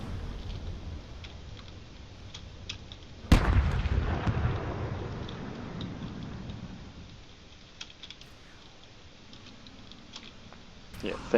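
Ship weapons firing in the space video game Drone Wars, a sudden heavy blast followed by a long rumbling decay, with scattered light clicks and a voice talking over the scene.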